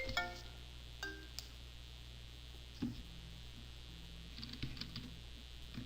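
Quiet keystrokes on a computer keyboard as a spreadsheet formula is entered, a few sparse clicks and short taps spread out over a steady low hum.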